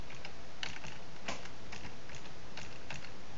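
Keys clacking on a computer keyboard as a command is entered into Windows XP, a brisk irregular run of close, crisp taps with no voices.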